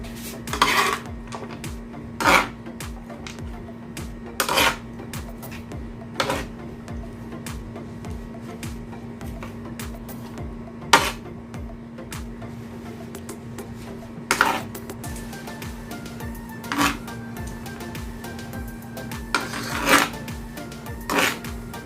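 Chana chaat being stirred in a large pot, a spoon knocking and scraping against the metal sides in irregular clinks spread over about twenty seconds, close and clear, over a steady low hum, with no talking.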